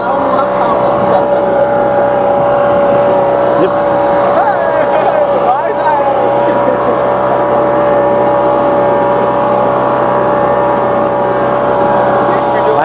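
A speedboat cruises on the sea off Digha, its engine giving a loud, steady drone with a sustained whine throughout, and faint voices are mixed in.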